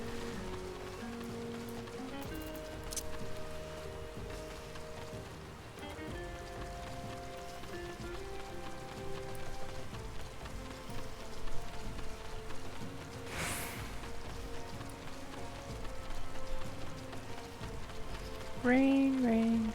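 Rain falls steadily in Final Fantasy XIV, a soft, even patter beneath game music and tones, holding at a moderate level throughout with no voices.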